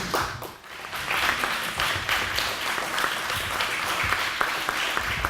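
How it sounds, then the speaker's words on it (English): Sustained audience applause fills a chapter meeting room, many hands clapping steadily and fairly loud for several seconds with no talk over it. "Let's give him a round of applause."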